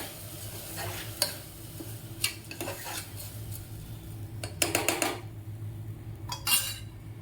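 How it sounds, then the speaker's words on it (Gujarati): A spoon stirs khichdi in a metal pot, making intermittent clanks and scraping bursts over a faint low cooking hiss, with a busier cluster of strokes toward the end. "પછી તેને બરાબર મિક્સ કરવાનું રહેશે"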